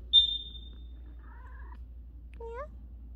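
A quiet cat gives a few soft meows, a short high chirp first, then two drawn-out mews, with near silence between them.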